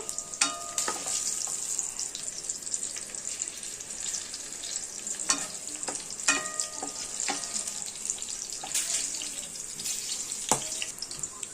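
Mushroom Manchurian ingredients fry in a pan, giving a steady hissing sizzle punctuated by intermittent clinks and scrapes of a spatula, close and without talking.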